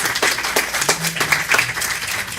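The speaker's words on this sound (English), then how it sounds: "Please give these folks a really big round of applause." A worship-service congregation claps for Space Coast Pride volunteers, a dense round of many hands at moderate level running throughout, with a low voice briefly humming underneath.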